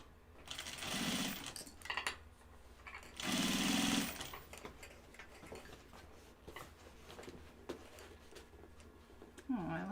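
A sewing machine stitches a bucket bag in two short bursts of fast, even mechanical whirring and clatter. Quiet handling noises and soft talk fill the gaps between runs.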